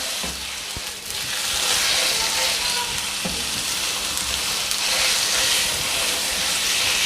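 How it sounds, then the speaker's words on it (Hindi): About 250 grams of minced chicken keema frying in a pan, a loud, dense, continuous sizzle and hiss heard up close, with a few faint scrapes of stirring and no voices. "इसको बस हल्का सा हमने फ्राई करना है।"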